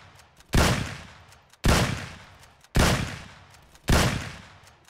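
Four evenly spaced heavy gunshots from GTA San Andreas Definitive Edition, each a sharp loud blast with a decaying tail and roughly a second between them, no voices.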